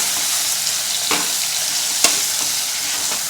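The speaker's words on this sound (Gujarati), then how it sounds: "હવે આપણે કાપીને તૈયાર કરેલા તુરિયાના ટુકડા ઉમેરી દઈએ બધું જ બરાબર મિક્સ કરી લઈએ" Ridge gourd pieces stirred into hot oil with asafoetida and turmeric, a steady close sizzle with a few scraping spatula strokes standing out above it.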